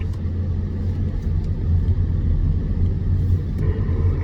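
A Chevrolet C8 Corvette engine under throttle on a race track, heard as a steady, loud low rumble held for several seconds without any voices.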